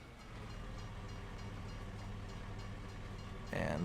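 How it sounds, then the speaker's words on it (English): A train rolls past in the Farming Simulator 25 video game on the Geistal map, a steady low rumble with faint rhythmic clicking that holds for several seconds before a brighter noise cuts in at the end. "Oh, and there's the train."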